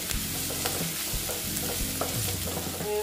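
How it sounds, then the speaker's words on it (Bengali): Ginger and garlic sizzle and fry steadily in a pan, with a spoon or spatula clinking and scraping as it is stirred; no voices. "দিয়ে আবার আমি ভেজে নেব, ভালো মতন ভাজতে হবে"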